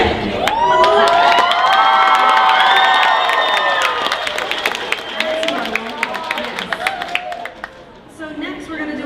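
An audience at an anime convention masquerade cheers loudly, with high whoops and screams over steady clapping that thins out toward the end.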